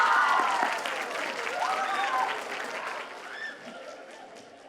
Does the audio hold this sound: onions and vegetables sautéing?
no